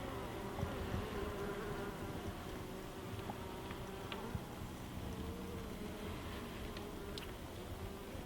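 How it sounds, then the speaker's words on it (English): A honeybee colony hums inside a covered hive during a UK winter check, a steady low drone of many bees close by, with scattered faint buzzes of individual insects over the dense background. "it's full of bees in there"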